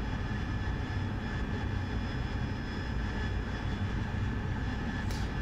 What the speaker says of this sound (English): the engine does take quite a bit of time to spool up from low settings